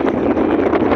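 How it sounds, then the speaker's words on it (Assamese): Wind blows across the microphone on the bank of the Brahmaputra river, a loud, continuous rushing buffet that stays close and unbroken throughout. "সুন্দৰ বতাহ কি বতাহ বলি আছে মলয়া বতাহ"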